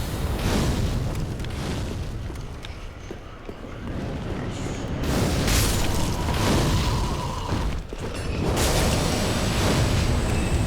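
Fireball blasts from a fire mage in Dark Souls boom and roar in heavy, continuous waves with a brief dip midway, dense and loud throughout.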